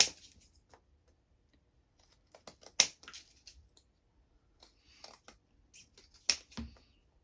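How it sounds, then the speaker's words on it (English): Scissors snip away the excess dried base of a handmade toothpick baren, a series of short, crisp cuts in irregular bursts, close and quiet with pauses between clusters. "you're going to trim off the excess base here, and you can just use scissors for this"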